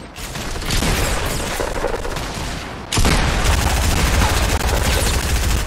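Dense rapid explosive fire in Fortnite, dominated by grenade launcher fire, forms a loud continuous barrage that briefly dips and then bursts louder again.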